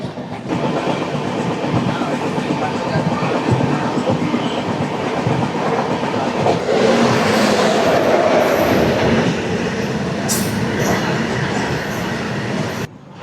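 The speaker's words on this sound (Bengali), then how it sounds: "ট্রেন এসে দাঁড়ালো টানকুপ্পা স্টেশনে।" The 13152 Kolkata Express runs on rails near Tankuppa station in Bihar, giving a loud, steady rumble with clickety-clack wheel beats heard from inside the train, rising briefly with a sharp squeal or screech near the end.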